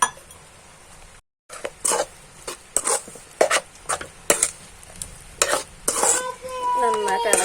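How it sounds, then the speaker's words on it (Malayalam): Kappilapazham pickle is stirred in a pan after vinegar is added, with a spoon scraping and clinking in a steady rhythm of strokes over a faint sizzle, close and clear, with no talking. "നന്നായിട്ട് ഇളക്കി കൊടുക്കാം."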